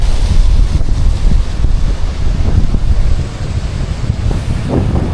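Strong wind roars across a mountain in Snowdonia on a bright, dry day, a loud continuous buffeting that batters the microphone throughout, with no voices heard.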